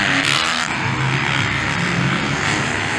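Race cars accelerating hard around a circuit at a motor racing event in Caarapó, a loud, continuous engine roar with shifting pitch that fills the whole stretch, no voices.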